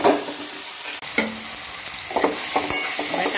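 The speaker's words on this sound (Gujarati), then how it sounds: "આને સરસ આપણા જ્યાં સુધી ટામેટા ના ઓગળી જાય ત્યાં સુધી આને સરસ સાંતળી લઈએ।" Tomatoes with ginger-garlic paste sauté in a pan for a mixed dal, giving a close, steady sizzle broken by scraping stirs and clinks of the spoon.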